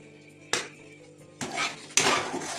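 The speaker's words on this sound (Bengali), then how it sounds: "আবারও মেশাতে থাকবো এবং নাড়তে থাকবো।" Amla candy mixture with spices stirred in a bowl, heard as a few sharp clinks and scraping knocks of a spoon against the dish, close and fairly quiet.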